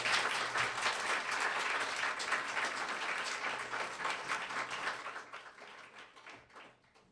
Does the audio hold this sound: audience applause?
yes